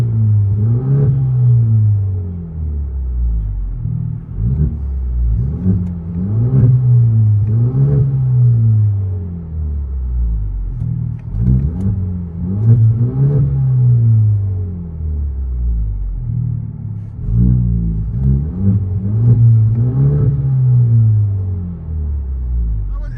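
A 2019 Kia Stinger 2.0L turbo with a Carven R-Series exhaust, heard from inside the cabin, rises and falls in repeated deep droning revs, loud and booming, with no talk over it.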